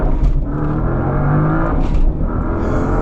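Porsche Panamera Turbo S E Hybrid from 2025 with a PDK gearbox pulling hard through quick paddle-shifted gear changes, a loud continuous engine drone broken by brief dips and surges at each shift, with no talking.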